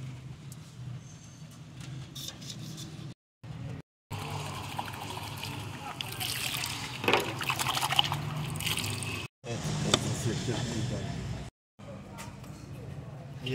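Brake wash or brake fluid liquid trickling and splashing during a brake shoe job on a Suzuki Mehran, a continuous close pouring sound with brief gaps of silence and some background voices.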